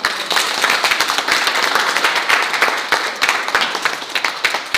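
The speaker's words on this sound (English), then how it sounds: "I think we should give her a round of applause" A live audience gives a round of applause, with dense, steady clapping from many hands close by for the whole stretch.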